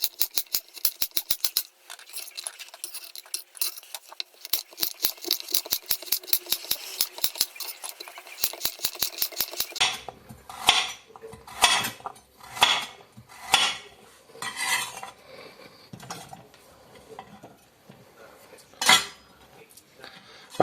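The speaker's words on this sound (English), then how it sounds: "the carrots, which I'm going to cut them in rings" A knife slicing carrots into rings on a cutting board, a rapid run of sharp, evenly spaced chops followed by slower, irregular cuts with brief pauses, close and crisp with no talk.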